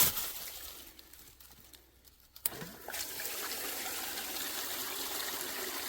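Water pumped through a gold hog sluice box at a prospecting site, a steady close trickling and gushing flow starting after a brief quieter gap and continuing evenly.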